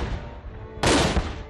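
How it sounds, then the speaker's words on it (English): Civil War reenactors fire a cannon at an outdoor ceremony, a single sudden loud boom with a broad blast that decays into a rumbling tail. "Civil War reenactors fire off cannon shots to symbolize the start of the program"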